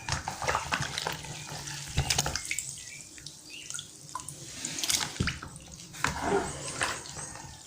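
Fermented cassava tubers being lowered into a basin of clean water, giving irregular splashes and sloshing with a few louder plops, close and moderately loud, no talking.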